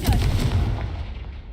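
Confringo fire spell from Hogwarts Legacy detonating as a loud, booming blast with heavy low rumble that decays over about a second and a half, no voices over it.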